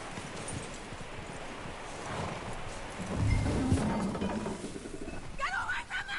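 Horse hooves clip-clop in Red Dead Redemption 2, a quiet, close run of steps that gets louder and more distinct in the middle, set against an outdoor ambience of wind and rustling, with voices speaking.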